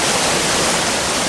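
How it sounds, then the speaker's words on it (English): Torrents of Andes snowmelt and cloud-forest rain thundering down Amazon valleys, a loud, dense and unbroken roar of rushing water filling the whole moment. "send over 200 billion metric tons of water thundering down the valleys"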